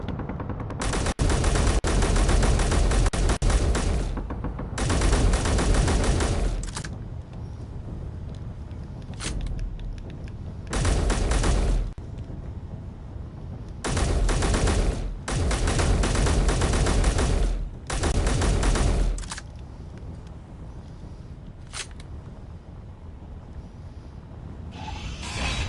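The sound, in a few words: gunfire from pirates in the video game Helios Underground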